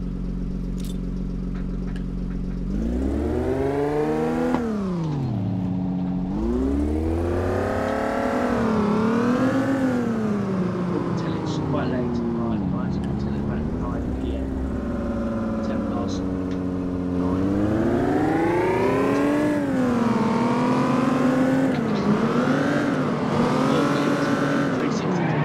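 A BMW Z4 M series starts and drives off, its engine revving up and down through repeated gear changes with strong rising and falling tones, loud and continuous throughout.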